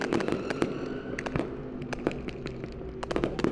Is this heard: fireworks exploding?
yes